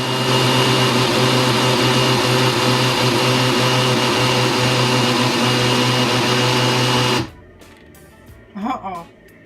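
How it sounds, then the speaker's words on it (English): A blender whirs loud and steady for about seven seconds while blending a thick batch of flax and rice mylk, then cuts off abruptly, leaving a brief voice near the end. "that's way too much flax for a blender to handle"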